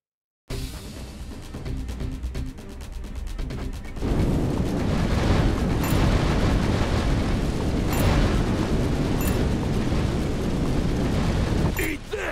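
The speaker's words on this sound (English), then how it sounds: "So, get the flamethrower, set everything on fire." A flamethrower in a video game torches everything in a roaring, sustained blast of fire that starts after a brief silence, swells louder midway and keeps rushing, with a voice talking over it.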